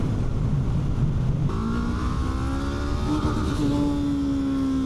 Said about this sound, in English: I'm already running into the rev cut here on the Honda